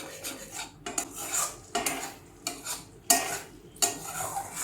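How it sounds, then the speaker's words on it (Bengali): Spice masala stirred and sautéed in a pan over a low gas flame: rhythmic scraping strokes of a spoon against the metal, close, over a faint sizzle, no talk. "দিয়ে আবার একটু কষিয়ে নিচ্ছি গ্যাসের ফ্লেমটা একদম লোতে করে এটা কষিয়ে নিতে হবে"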